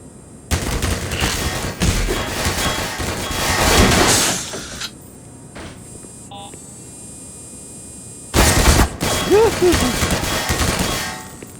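A large turret in Half-Life Black Mesa unleashes loud sustained bursts of heavy automatic fire, one long roaring volley, a lull with a low hum and faint game tones, then another burst.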